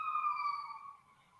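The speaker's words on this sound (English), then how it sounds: "Oh, that was a siren going by." A vehicle siren sounds from a distance as it passes, a thin steady wail that slowly fades over a second or so, with a faint murmur beneath it.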